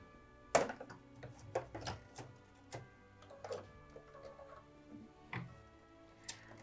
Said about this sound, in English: we'll put it in the machine and we'll stitch the final tack down